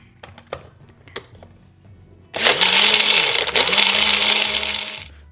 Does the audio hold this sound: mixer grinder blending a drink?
yes